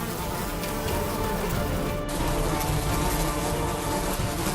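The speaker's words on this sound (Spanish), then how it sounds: "las abejas están listas para atacar con dolorosas picaduras" Bees swarm around their hive in a dense, continuous buzzing drone. The sound stays loud and close for the whole few seconds, with no pauses.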